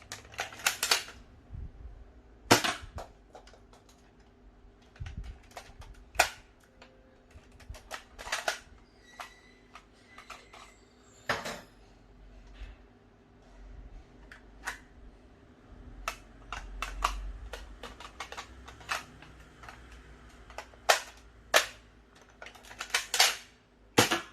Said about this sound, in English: Now continue with 2 dart loading to the shells.